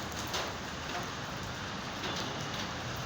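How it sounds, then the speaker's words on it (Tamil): Steady rain pours down in Wayanad, Kerala, a dense even rush of drops with no voices over it. "இப்போ இங்கே பாருங்கள், மழை பெய்து பாருங்கள்."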